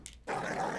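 Dog in the video game Hotline Miami 2 letting out a short, tense vocal snarl after a brief sharp yip, close and fairly quiet, with no talking.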